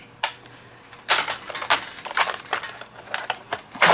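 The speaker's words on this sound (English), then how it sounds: "Okay, so we're gonna cut these guys." Card panels for a handmade greeting card being cut, a series of crisp, irregular slicing and crunching bursts that are close and moderately loud, with no voices.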